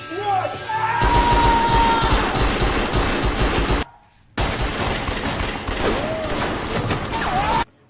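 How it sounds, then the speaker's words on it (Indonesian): Loud, dense bursts of gunfire fill the scene, broken by a brief silence before the shooting resumes, with shouting and whistling tones mixed in. "Mereka berdua lalu melepaskan tembakan ke arah musuh"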